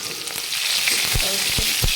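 Oil deep frying for a besan curry crackles loudly and close by in a dense continuous sizzle, with several sharp pops and spatters standing out.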